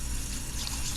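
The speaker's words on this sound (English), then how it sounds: "you're going to scrub this guy down" A clam from the Chesapeake Bay being scrubbed clean under a running tap, heard as a brief, steady, close hiss of flowing water with no voices.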